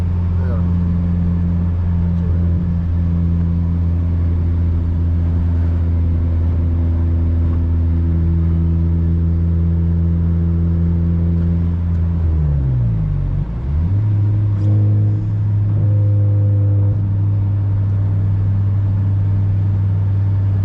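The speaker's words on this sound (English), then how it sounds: "Just raw, stuck to mega power RR exhaust." Inside a Honda Civic Si with a Mega Power RR exhaust on a night drive, a loud, steady droning exhaust rumble holds throughout. It dips briefly as the revs fall and recover near the middle, then carries on strongly.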